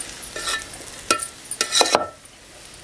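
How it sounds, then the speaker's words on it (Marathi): Wild forest greens being sautéed in a pan, a few quick scraping stirs with a light sizzle beneath, close and fairly loud, then a sudden drop to quiet. "परतून घेऊया भाजी"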